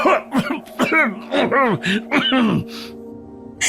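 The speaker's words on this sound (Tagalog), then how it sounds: "Mas lumalala po ang ubo ninyo" Several harsh, rasping coughs from a man in quick succession, close and loud, with strained vocal groans between them, then a brief quiet stretch.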